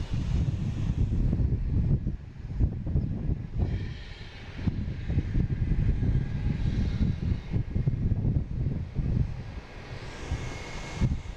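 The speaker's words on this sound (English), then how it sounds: "we got a JetBlue heading to Nashville, A220, flight 449" A JetBlue Airbus A220 jet takes off with a broad, surging roar that swells and fades in waves for about eleven seconds, roughened by gusting wind on the microphone.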